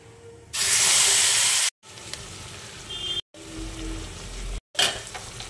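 A spice paste with black cumin hits hot oil left from frying fish, bursting into a loud hissing sizzle that settles into steadier frying, broken by a few short cuts and a final flare of spitting.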